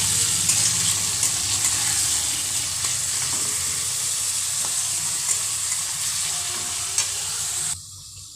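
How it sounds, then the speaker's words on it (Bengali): Chopped onions and a green chili fry in a pan for egg chowmein while being stirred. A steady, close sizzle with scraping stir sounds runs throughout and stops abruptly near the end. "সেই পেঁয়াজগুলো এতে দিয়ে দেবো। ভালোভাবে নেড়ে নেব।"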